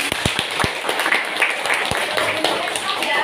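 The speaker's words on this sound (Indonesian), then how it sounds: "kita tepuk tangan dulu biar relax semuanya" A school class bursts into hand clapping, a dense, steady patter of many hands with a few sharper close claps, mixed with voices chattering throughout.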